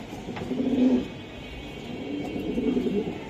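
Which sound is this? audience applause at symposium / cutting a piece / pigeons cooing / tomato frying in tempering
pigeons cooing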